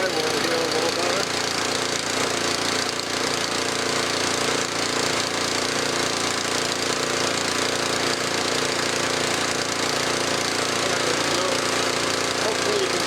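A Cub Cadet 2X 524 SWE two-stage snowblower engine runs steadily outdoors during a winter storm, a loud, even rattling drone with no letup throughout.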